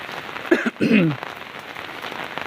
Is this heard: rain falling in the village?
yes